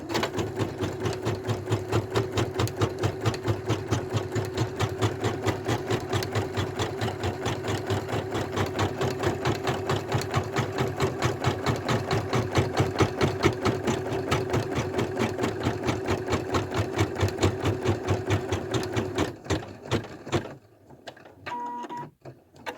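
An embroidery machine stitches down fabric for reverse appliqué, running steadily with a fast, even mechanical chatter for about twenty seconds before it stops and falls quiet.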